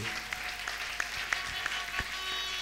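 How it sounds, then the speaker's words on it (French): Faint, distant clapping from a church congregation, with a few sharper isolated claps and thuds standing out over a low, even wash of sound. "Acclame très fort pour la gloire de Dieu."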